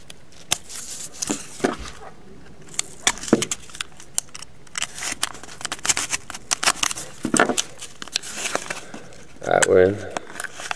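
A mail package's wrapping is peeled back and crinkled by hand, producing scattered close crackles and rustles in short bursts with brief pauses, fairly quiet.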